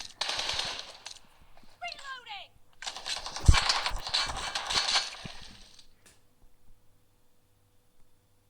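Rapid bursts of AKM rifle fire from a shooter video game, loud and close, clustered over several seconds with a dense crackling texture, then dropping to near silence.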